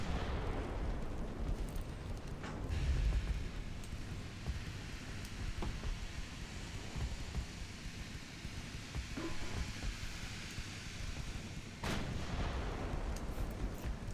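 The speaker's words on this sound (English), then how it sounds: "Got like 3 or 4 2-inch guns on this side, and they're just pew pew pew pew pew." Naval guns of two-inch calibre fire repeatedly in a video game battle, a dense, continuous barrage of booming shots and rumbling blasts with a few sharper reports standing out, heard close and loud without talk.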